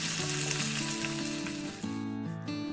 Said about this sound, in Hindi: अब दूसरी साइड को भी ऐसे ही फ्राई करेंगे